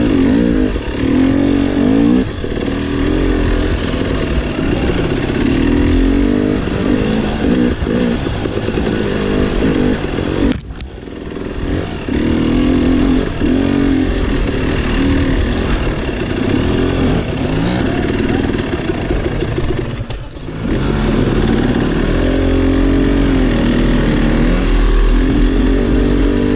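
A KTM 300 XC two-stroke dirt bike ridden through a swamp trail, its engine loud and close, buzzing and revving continuously with brief dips as the throttle is chopped, around the 11- and 20-second marks.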